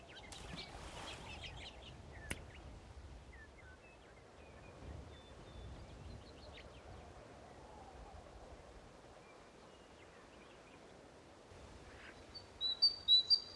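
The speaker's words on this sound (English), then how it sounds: "the birds chirping and the frogs croaking" Scattered faint bird chirps and tweets over a soft outdoor background hiss, distant and sparse, with a few sharper calls near the end.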